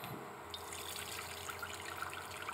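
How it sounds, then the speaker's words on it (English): Shredded zucchini squeezed in a kitchen towel over a bowl, its water trickling and dribbling out in a faint, steady stream with a few small drips, heard close up and with no talking. "we're gonna wring out all this shredded zucchini"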